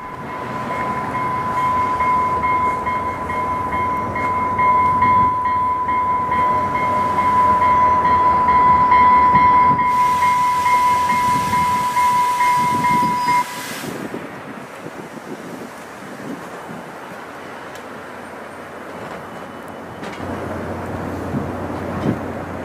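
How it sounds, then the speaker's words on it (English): Evening Rio Metro commuter train standing at Albuquerque station, picking up riders bound north for Santa Fe, with a steady mechanical drone and a sustained high tone that cuts out midway, then rumbling and wind noise on the microphone. "Here, one of the evening commuter trains is picking up riders to head north towards Santa Fe"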